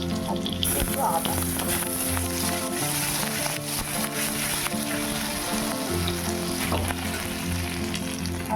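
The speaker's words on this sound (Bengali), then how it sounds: "কড়াইতে দিচ্ছি একটু রসুন" Garlic and ginger sizzle in hot white oil in a wok, a steady crackling fry throughout with faint background hum and some speech beneath.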